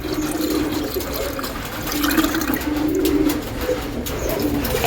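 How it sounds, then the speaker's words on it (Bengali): Pigeons coo in soft, low, repeated murmurs under a constant wash of watery background noise, with no speech. "পায়রার সামনে খেতে রেখে দেবো। পায়রা খুব মজা করে খাবে"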